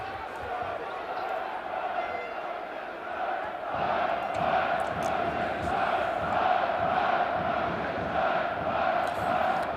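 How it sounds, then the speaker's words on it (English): A basketball arena crowd booing Galatasaray during a Champions League game against AEK, a sustained loud collective drone that grows stronger partway through, with a commentator talking over it. "rain the boos down on Galatasaray."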